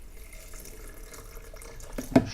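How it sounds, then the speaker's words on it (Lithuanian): Water being poured into a blender jug while preparing beetroot soup in a kitchen, a soft running trickle that ends in a brief louder splash. "Ir dabar užpilsiu vandenuko."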